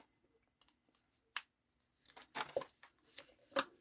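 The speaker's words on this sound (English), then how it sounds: "Cut a little bit of that tape off." Scissors snip through a small piece of tape in a quiet craft setting, with a few sharp, close cuts and light rustling between them.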